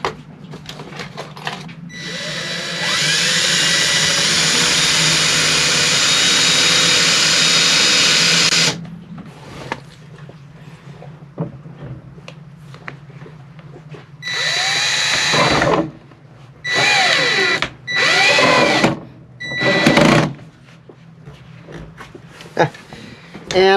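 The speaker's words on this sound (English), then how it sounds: "I'm going to drill down just a little bit, then I'm going to put a screw in" Power drill boring into a sailboat's fiberglass deck to set a screw, a long close whine of about six seconds followed by several short bursts, with a voice talking between runs.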